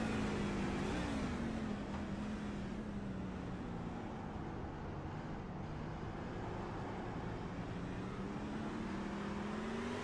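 A racing truck engine in a sim race at Sonoma Raceway, held below full throttle, droning steadily and loudly with a slowly shifting pitch and no talk over it.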